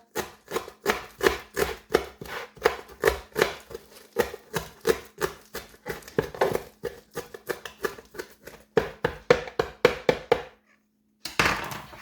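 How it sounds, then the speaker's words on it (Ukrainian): A knife chops finely cut fresh herbs on a board for a vegetable pie, giving rapid, regular close taps in steady bursts with a short pause near the end. "Нарізаю дрібненьку зелень."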